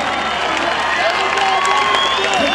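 Audience applause at a concert in Batman: a continuous, loud wash of clapping, cheering and crowd noise with voices woven through it, filling the whole moment without a break.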